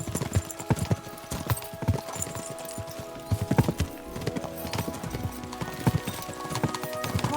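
Horses galloping in Kingdom Come: Deliverance II, with steady, close hoofbeats clip-clopping throughout, backed by busy in-game ambience and an occasional whinny.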